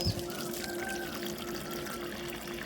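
Water poured onto garden plants, a steady close trickle and splash running for a few seconds at low volume, with faint outdoor ambience behind it.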